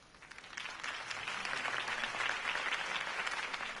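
Crowd applause in a video game after Harvey Dent's campaign speech, a steady wash of many hands clapping that swells slightly and holds throughout, with no clear voices on top.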